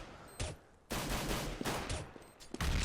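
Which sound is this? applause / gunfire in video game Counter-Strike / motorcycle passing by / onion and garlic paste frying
gunfire in video game Counter-Strike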